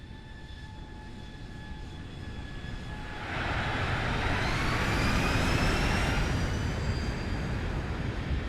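Boeing 737 from the Zibo mod in a flight simulator on landing approach: steady broadband engine roar with faint whining tones, swelling louder midway and holding as a continuous rush, no voices.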